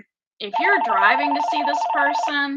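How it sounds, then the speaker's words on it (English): A telephone rings in a steady, pulsing electronic pattern for about two seconds, running under continuous close speech. "I'm sorry about the phone."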